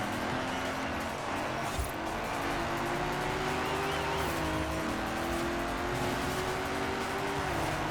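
Mercedes-Benz AMG Hammer Coupe racing in Forza Horizon 4, its engine roaring loud and continuous with rising and falling revs and brief tire squeal during an online race.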